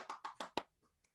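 Four quick, close hand claps in an online meeting, sharp and fairly quiet, spaced evenly in under a second, followed by near silence with a couple of faint ticks.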